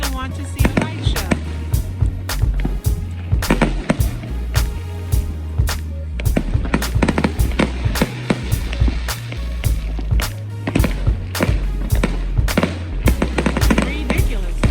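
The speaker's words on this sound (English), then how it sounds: "who doesn't want to see fireworks?" Fourth of July fireworks in Compton burst in loud, sharp, irregular bangs and crackles over a pulsing bass-heavy backdrop that continues throughout.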